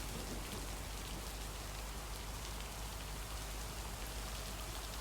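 Heavy rain falls in the video game Lake as a dense, steady hiss with a deep low rumble underneath. It is continuous and loud throughout, with no voices.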